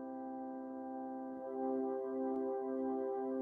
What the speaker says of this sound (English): We've also got a flute version,